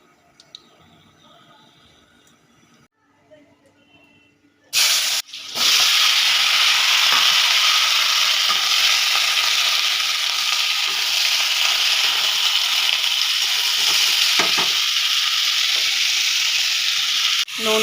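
Panch phoron spices tempering in hot oil for a fish curry with potatoes, a loud steady sizzle that bursts in suddenly after a quiet start and holds continuously to the end, close and alone.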